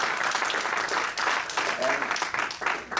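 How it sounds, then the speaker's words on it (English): A crowd claps at a boxing post-fight press conference, a dense, steady applause over the whole stretch, with voices faintly mixed in. "I think they deserve a great round of applause."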